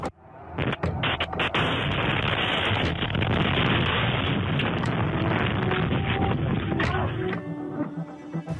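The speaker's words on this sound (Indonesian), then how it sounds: "Serangan ini menyebabkan ledakan besar dan kebakaran." A rocket strike's sudden blast gives way to a loud, sustained rumbling roar that lasts several seconds before cutting off abruptly.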